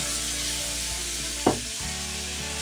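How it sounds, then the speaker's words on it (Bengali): Water splashed into frying egg curry masala sets off a sudden loud hiss that flares and then settles back into a steady background sizzle. "এবার আমি পরিমাণ মতো জল দিয়ে দেবো এর মধ্যে"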